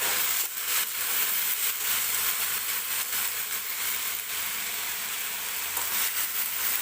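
Fenugreek greens stir-frying in oil for a Marathi methi bhaji, a dense continuous hiss of sizzling with faint scraping strokes of a spatula, steady and close.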